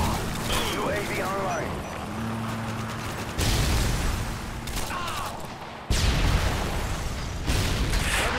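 A Predator missile strike in Call of Duty: Modern Warfare 2 delivers sudden heavy blasts with crackling debris, interspersed with scattered gunfire and mechanical game noise, while a voice talks intermittently.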